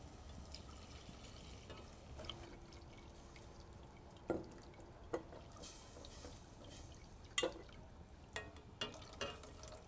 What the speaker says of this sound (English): I'm going to continue whisking and adding my milk until it comes up to a light boil